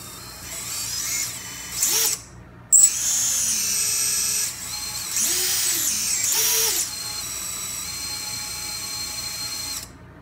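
QAV 210 quadcopter drone motors spinning up, a close buzzing, drill-like whine with rising and falling pitch sweeps in short bursts over a steady electric hum.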